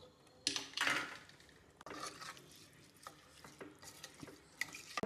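A spoon scrapes and knocks around inside a pressure cooker pot while stirring rice with coriander leaves, with quiet irregular stirring strokes and a few sharper clicks against the metal.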